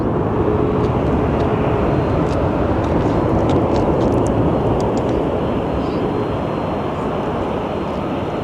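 Large airplanes at Phoenix Sky Harbor airport give off a loud, continuous jet engine roar that holds steady and close throughout, with no voices heard.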